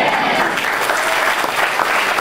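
A live audience applauds in a dense, loud wash of many hands clapping, steady for a couple of seconds with no voices over it.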